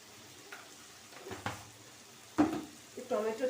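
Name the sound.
tomato frying in a pan with salt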